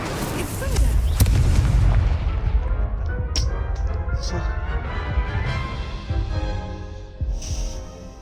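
Spell blasts and explosions from combat in Hogwarts Legacy: a dense, loud rumbling wash of booming bursts with sharp cracks and sizzles, sustained throughout with a short dip near the end.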